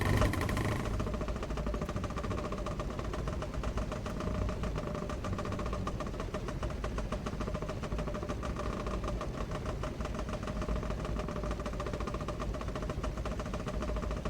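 Steady, rough engine drone of a blown car engine in the Automobilista 2 racing game, a continuous mid-pitched hum with knocking texture that holds at an even loudness throughout, with no talk.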